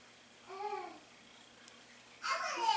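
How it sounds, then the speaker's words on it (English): Young children babble in the background of a quiet indoor room, two short bursts of small voices, faint and somewhat distant. "I'm sorry if you hear my children in the background."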